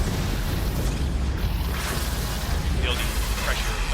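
Geiger Blast, a nuclear explosion power in the DC Universe Online game, booms with a dense, sustained roar and rushing bursts, heard under someone talking.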